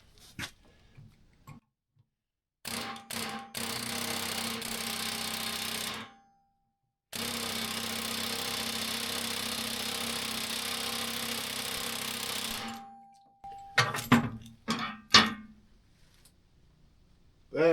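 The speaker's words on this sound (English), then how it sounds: "let's try this air hammer trick again" An air hammer rattles loudly on a rusty shock bolt of a vintage Polaris snowmobile in two long bursts separated by a pause, with shorter blasts and clanks before and after.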